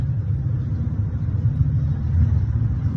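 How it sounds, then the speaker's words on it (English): A motorbike going past outdoors makes a steady low engine rumble with slight swells, moderately distant and heard on its own without any talk. "Got a bike going past."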